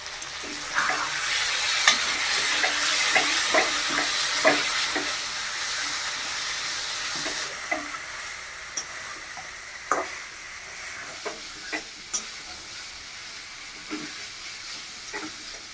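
Ritha fish coated in turmeric and salt sizzles and fries in a pan for Bengali-style curry, a steady close crackle with scattered sharp stirring clacks and scrapes, no voices.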